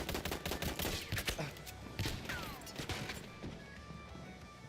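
Heavy gunfire and blasts fill a Battlefield 1 multiplayer match against a shotgun-wielding enemy assault soldier, with sharp repeated shots and crashes close by, easing slightly toward the end.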